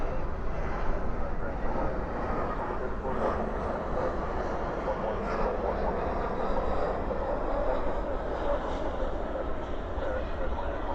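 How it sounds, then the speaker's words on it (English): An Airbus A319 arriving from St. Louis lands at DFW at night with spoilers up and thrust reversers out, a broad steady roar of engine noise lasting throughout, even and continuous without distinct peaks. "There is an arrival, an E319 from St. Louis"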